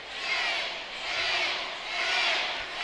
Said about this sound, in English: The crowd is chanting 10.